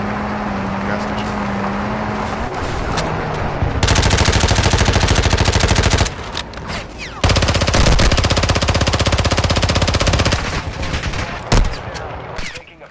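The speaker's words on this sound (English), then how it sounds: "Taking effective fire." Bursts of automatic gunfire ring out in Call of Duty DMZ, loud rapid machine-gun strings in two long volleys separated by a short pause, with quieter shots and game sounds around them.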